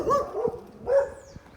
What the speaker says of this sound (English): There's another dog.